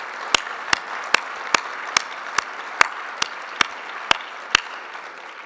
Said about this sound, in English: Please join me in a round of applause for our presenters.